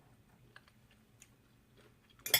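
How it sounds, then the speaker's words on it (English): Kimchi is eaten as a snack at close range, with soft wet chewing and a few sharp clacks spread through a quiet room, ending in a louder burst of crunchy noise. "what you hear clacking is, I'm eating a snack. And the snack is some kimchi."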